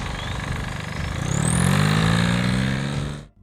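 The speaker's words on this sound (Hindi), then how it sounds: "डीजल इंजन की खास आवाज इन्हीं वाइब्रेशनों की सिम्फनी है।" A diesel motorcycle engine runs steadily with a dense, rough low rumble and a rising whine partway through, loud and continuous before cutting off abruptly near the end.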